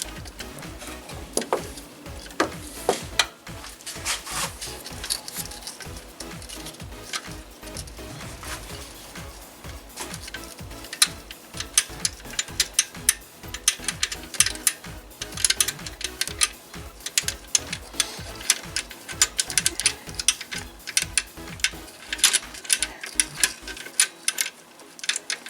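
Ratchet clicking steadily and loosening a 12mm tensioner bolt on the side of a Kia 1.8 engine from a Forte, K3, Soul or Sportage. Rapid, dense ticks carry on through the whole clip, close up and fairly loud.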